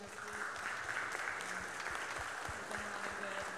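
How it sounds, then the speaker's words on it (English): A church congregation at a Lutheran service claps in a round of applause, a moderate, steady patter of hands filling the room with faint voices mixed underneath. "I'd like to give them just a round of applause"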